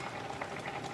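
A pot of water bubbles at a steady rolling boil, soft and close, for just under a second.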